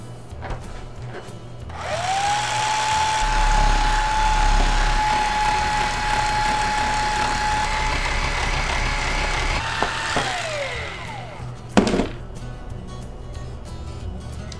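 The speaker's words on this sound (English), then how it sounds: "Got this electric carving knife," An electric carving knife cutting foam: a motor whine starts, holds a steady buzzing tone for several seconds as the blades work through the material, then winds down, followed by a short clatter.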